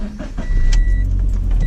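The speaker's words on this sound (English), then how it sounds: "says turn the car on" A Scion FR-S starting up, with a brief electric whir and click, then a loud, low engine rumble that settles into a steady idle, heard up close with no talking.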